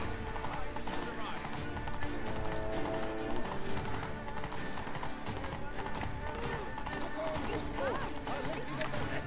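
Horse hooves galloping in The Witcher 3: Wild Hunt, a steady run of hoofbeats under continuous game music and ambience while someone talks over it in Spanish.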